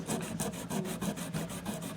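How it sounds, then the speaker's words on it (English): Fine 1000 grit sandpaper rubbed back and forth over the frets of a Jackson electric guitar, giving a steady series of close, soft rasping swipes with no talking. "This might be a 1000 grit sandpaper, and just give it a couple of swipes like that."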